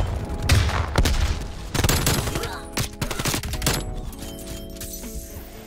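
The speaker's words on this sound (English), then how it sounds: "I might have to use my AK just to get up in their spawns a little bit." Rapid bursts of AK rifle fire in the video game Call of Duty Cold War, a loud fusillade of cracking shots with booming impacts, dense at first and tapering into scattered volleys.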